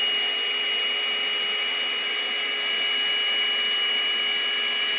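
An electric blower pushing paint and cell activator across a canvas, a steady close whirring hum with a thin high whine that holds unchanged throughout.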